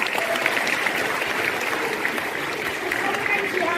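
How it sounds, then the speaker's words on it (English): Applause from an audience at a school Model UN championship, a dense wash of many hands clapping steadily for a few seconds, fairly loud and close, with faint voices mixed in. "Round of applause for the three of them."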